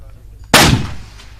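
One rifle shot fired at a long-range shooting competition, an abrupt loud crack over a low background hum, followed by a short echoing tail that fades across the open range.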